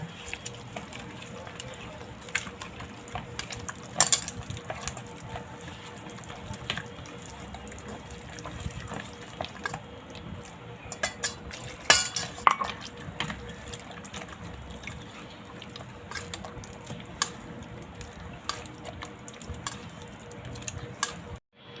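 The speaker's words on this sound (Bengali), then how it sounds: "এবার আমি দুধ দিয়ে ব্যাটারটা গুলে নেব" Palm-fruit patisapta batter being mixed with milk by hand: faint, steady stirring and liquid sloshing with scattered light clinks of utensil against bowl, close but quiet, with a couple of sharper knocks.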